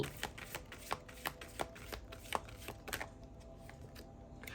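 Angel Answer oracle cards are shuffled by hand, giving a run of soft, quick riffling flicks and taps, close and quiet, with no voices.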